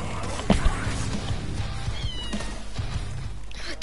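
A cat meows a few times amid busy, noisy background sound, the short cries fairly close and somewhat masked by clatter and ambient noise.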